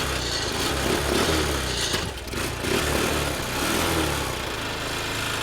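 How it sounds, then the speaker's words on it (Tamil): A mini jeep's small engine runs steadily up close, a loud, even buzzing drone with a brief dip near the middle before it picks back up. "வண்டியை ஸ்டார்ட் பண்ணு"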